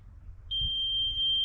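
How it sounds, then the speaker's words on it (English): A metal detector passed over a utility pole on a sawmill gives one sustained, high electronic tone. It starts suddenly and holds steady above faint low background noise. "Okay, got a beep there."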